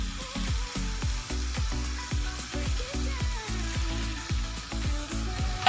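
Matki gravy fries in oil in a pan as spices go in, a close, steady sizzle broken by rhythmic scraping stirs at a quick, even pace.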